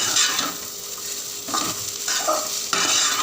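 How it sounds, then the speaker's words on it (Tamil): Potato stir-fry seasoned with salt and turmeric is stirred in a pan, the spatula scraping in several distinct strokes over a steady sizzle, close up and with no one talking. "அது சேர்த்துட்டு நல்லா கிளறி விட்டுடலாம்"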